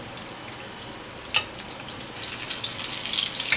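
Schnitzel sizzles and crackles in hot oil in a pan, a constant frying hiss with scattered pops that grows busier toward the end.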